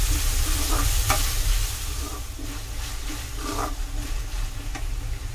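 Onion and tomato frying together in a pan for a Madurai-style curry dosa, a steady close sizzle with a low rumble beneath, broken by a few light stirring scrapes and taps, no voices.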